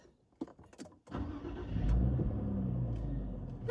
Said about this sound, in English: I'll start the engine and then you can tell me